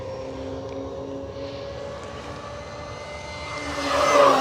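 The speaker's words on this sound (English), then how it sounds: "flying radio-controlled airplanes" FMS PA-18 Super Cub 1.7m radio-controlled model airplane flying overhead, its electric motor giving a steady tonal whine at moderate distance that swells louder as it passes close near the end.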